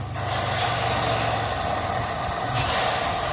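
Water poured onto overheated vehicle brake drums and discs on a mountain road near Babusar Top, a loud continuous hissing rush, with a brief break before it surges again.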